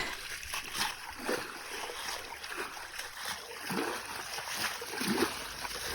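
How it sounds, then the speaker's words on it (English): An Intex paddling pool being brushed clean as water is pumped out: steady splashing and sloshing scrubs with a continuous watery wash and a faint pump whine underneath. "I'm brushing it all off, and the Intex pool is pumping everything else out"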